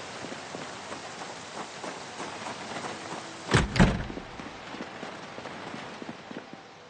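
Steady rain patters in the Project Zomboid video game, a soft continuous hiss of drops, broken midway by a short, louder thudding burst.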